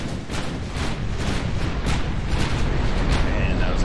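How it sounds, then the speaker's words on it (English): Battleship main guns firing in the naval game Ultimate Admiral: Dreadnoughts, a rolling series of heavy booms and blasts building in loudness, with a voice speaking over the barrage. "Man, that was a lot of firepower."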